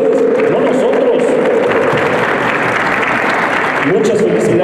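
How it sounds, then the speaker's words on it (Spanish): Audience applause at a recognition ceremony, a dense, steady wash of clapping from a large crowd that fills the whole stretch, loud and continuous with a brief swell near the end. "un fuerte aplauso para ustedes"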